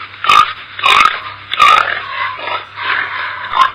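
A pig grunts and oinks in a series of short, close calls, about five bursts spaced unevenly across a few seconds, with no talking.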